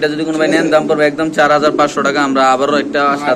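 Bombay pigeons at a pigeon farm coo loudly and steadily up close, their throaty, rolling calls overlapping one another without pause.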